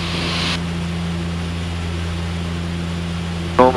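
A Twin Otter propeller aircraft arriving into Calgary International drones loudly and steadily from inside the cabin, its engines giving a constant low hum with a brief surge near the end.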